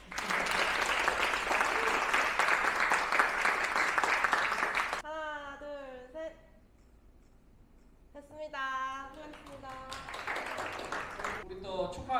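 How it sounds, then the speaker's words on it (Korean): Audience applause at a university business scholarship award ceremony, loud and sustained for about five seconds, then giving way to chatter and speech. "하나, 둘, 셋, 화이팅! 박수!"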